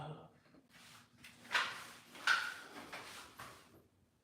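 A folding accordion-style hotel door slides and rattles as it is opened or closed, with two brief louder clacks partway through in a quiet room.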